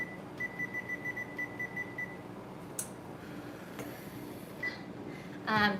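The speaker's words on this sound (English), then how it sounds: "let me reset this timer" A kitchen timer goes off while macarons are being baked, sounding a steady run of short evenly spaced beeps that then stop, fairly faint over a room hum, with a few clicks afterward.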